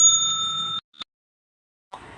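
A subscribe bell-button notification ding, a single bright ringing chime that holds briefly, then a short click and silence before another faint chime begins.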